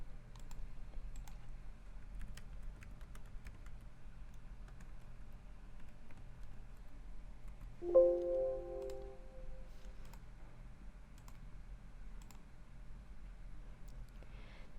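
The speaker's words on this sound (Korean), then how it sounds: "기본정보 소재지에 상세 버튼을 클릭하여 주소를 입력합니다." Computer keyboard typing and mouse clicks run steadily at moderate distance as an address is entered, quiet repeated taps over a low hum, with one brief electronic tone midway.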